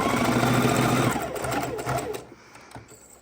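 A sewing machine runs steadily while stitching quarter-inch seams on a fabric pocket tissue holder, a close whirring hum that slows and stops near the end, leaving faint handling noise.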